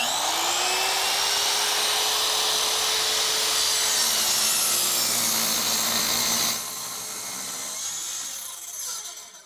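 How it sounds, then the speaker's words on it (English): A sliding miter saw cuts wood at an angle, a loud, close, high whine with gritty rasping that holds for several seconds, then drops as the blade spins down. "with a sliding miter saw, they say you're supposed to pull it back and go into it"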